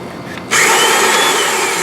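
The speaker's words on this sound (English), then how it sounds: "My drill press." A drill press starts up in a workshop with a sudden jump to a loud, steady whine that holds evenly to the end, after a brief quieter lead-in.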